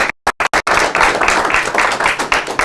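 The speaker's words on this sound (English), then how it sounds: "warm round of applause to take care of us" A room of people at a fundraising and grant-writing workshop breaks into applause; after a few choppy dropouts at the start, a steady round of clapping from the crowd carries on at close range.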